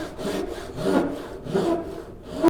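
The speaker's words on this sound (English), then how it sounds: "Now I'm going to do this with my Japanese saw again" A fine-toothed Japanese saw cuts a wooden tenon in steady back-and-forth rasping strokes, close and clear, with no other sounds.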